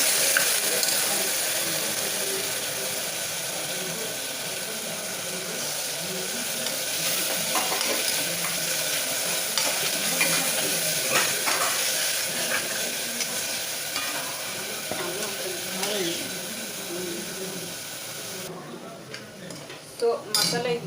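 Ginger garlic paste sizzles steadily in a hot pan while a spoon scrapes and stirs it, a continuous close frying hiss with intermittent metallic scrapes.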